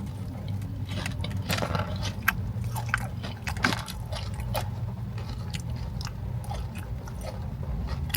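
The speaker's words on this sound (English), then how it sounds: "All that I bit was the skin, and it's really good, but I need the meat." Someone bites close to the mic into crispy, hot-sauced skin of Lee's Famous Chicken in St. Louis, giving a run of sharp crunches and steady chewing without any talk.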